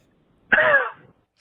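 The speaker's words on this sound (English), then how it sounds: "she's got a cough" One short cough, nearby and clear, with a brief raspy tail against a silent background.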